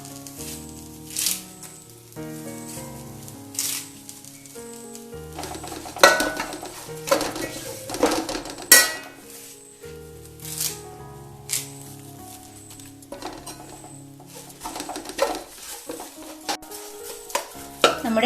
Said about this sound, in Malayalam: ഇനി നമുക്ക് ഈ കൂടെ പൊടിച്ച തേങ്ങ ചേർത്ത് നന്നായിട്ടൊന്ന് വറുത്തെടുക്കാം